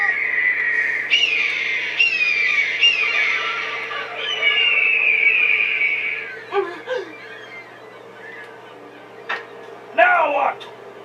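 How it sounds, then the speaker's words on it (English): A great eagle's cry in a cartoon-style scene, drawn-out piercing wailing calls that rise and fall, sounding loud and close, with a few shorter sharp calls after them and voices breaking in. "that's the cry of a great eagle."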